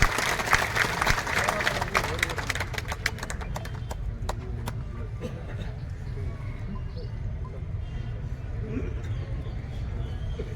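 A crowd claps loudly at a BJP election office inauguration for candidate Devendra Jhajharia. Dense, steady clapping fills the first half, then thins into a softer, continuing patter with crowd murmur.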